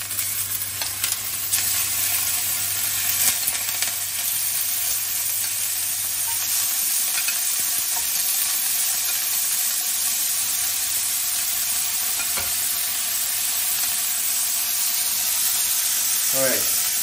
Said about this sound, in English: Alright, you can see it sizzling away.